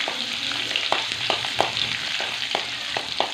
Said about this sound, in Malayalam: അതിലേക്ക് ഒരു ചെറിയ കഷ്ണം ഇഞ്ചി ചെറുതായി അരിഞ്ഞത് അത് ഇട്ട് കൊടുക്കാം